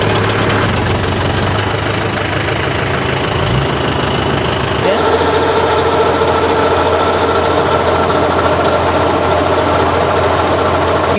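A Mahindra 575 tractor runs loudly at close range beside a Kubota harvester while paddy is unloaded, a heavy, continuous diesel drone whose pitch shifts partway through as the engine load changes.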